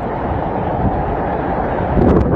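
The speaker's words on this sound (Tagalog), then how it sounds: "Habang rinig ang paghampas ng hangin, sabay ng buhos ng ulan." Typhoon winds lashing Batanes with pouring rain, a dense continuous roar of gusts and rainfall, loud and unbroken, swelling slightly near the end.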